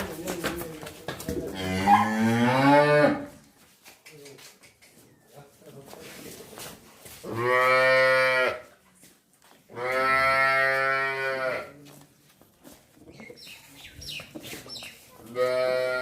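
Jersey cows and a heifer lowing in several long, drawn-out calls with quieter pauses between them, fairly close, with some background noise in the gaps.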